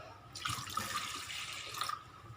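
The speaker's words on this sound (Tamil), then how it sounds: "கொஞ்சம் தண்ணி ஆட் பண்ணிக்கலாம்" Water pours steadily into a batter of ground rice and urad dal, a continuous close splashing trickle lasting about a second and a half, with no talk over it.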